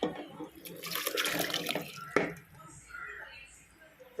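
Water is poured into a pot of mutton and vegetable curry with intestine gravy, a splashing gush lasting about two seconds before stopping abruptly, leaving quiet kitchen background.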